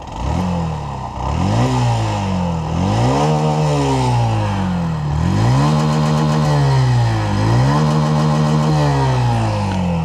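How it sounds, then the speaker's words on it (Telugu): A Honda Shine 100 DX motorcycle engine revs hard several times, each loud, close roar climbing then falling back to a rumbling idle. "ఒకసారి ఎగ్జాస్ట్ సౌండ్ వినండి"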